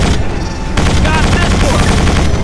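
Enemy gunfire in Quake 4 rattles in a dense, loud burst of rapid shots layered with impacts and a brief whine, filling the whole moment.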